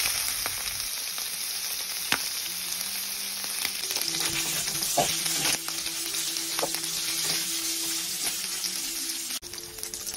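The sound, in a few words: meat being sautéed until brown for pinakbet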